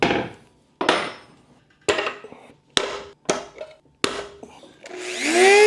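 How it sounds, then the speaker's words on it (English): Cutting wheel grinding on the shaft of a Yamaha 200 HPDI outboard water pump, in a series of short loud bursts of metal grinding separated by brief pauses, ending in a longer sustained grind. "This wheel's too big. I'm cutting into the shaft."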